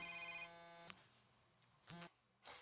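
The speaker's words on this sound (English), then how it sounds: "That was my wife who rang me whilst recording the video" A telephone rings faintly during a home recording, about 10 meters away in a living room: a steady ringing tone, then a sharp click and two brief, quieter electronic bursts.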